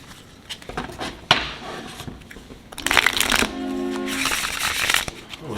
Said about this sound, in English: Let me go ahead and shuffle these cards well.